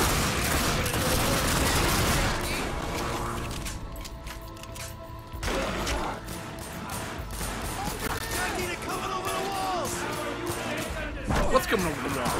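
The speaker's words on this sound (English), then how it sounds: "how many times do I have to shoot her before she surrenders?" Gunfire from The Darkness 2, a video game, sounding as dense, loud bursts of shots mixed with crashes and game clutter across the whole stretch, with a voice talking over it.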